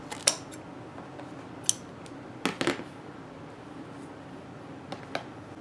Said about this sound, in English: I'm going to clip this off across the bottom.